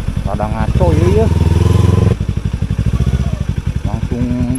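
Motorcycle ridden on a hilly road from Soreang to Ciwidey via Gunung Bubut, its engine chugging with a steady pulsing rhythm up close while people talk over it.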